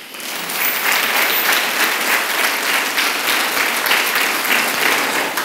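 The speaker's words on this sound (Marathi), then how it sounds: "लंगड्या भिकाऱ्यासाठी टाळ्या वाजवा." A church congregation applauds loudly and continuously, a dense, sustained wash of many hands clapping at once with no talking.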